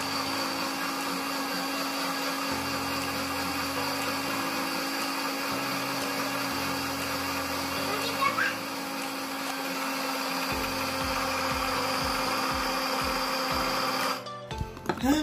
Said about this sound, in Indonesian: Yuk, kita mulai blender buah yang udah dimasukkan.